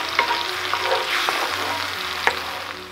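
A spoon scrapes browned venison shank bits from the bottom of an Instant Pot during sautéing, with several distinct close scrapes and clinks over a constant sizzle, and no talk.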